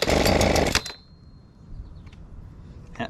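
A Husqvarna 125B leaf blower on half choke after a carburetor replacement roars loudly for under a second, then cuts out, leaving a faint lull and a brief sputter near the end.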